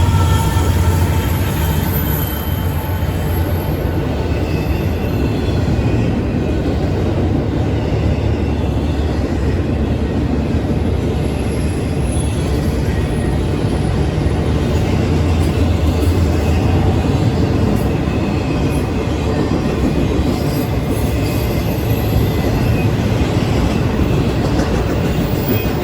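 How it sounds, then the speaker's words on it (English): An intermodal freight train rolls through Berea, Ohio, with a steady, loud rumble and continuous wheel-on-rail noise throughout, and faint high squeals drift in and out. "Another unknown east-westbound intermodal train"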